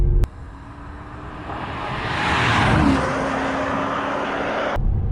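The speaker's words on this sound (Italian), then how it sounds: "Che accelerazione!" A Porsche Panamera accelerates hard, its engine note swelling and building to a loud, steady roar that holds close by for several seconds.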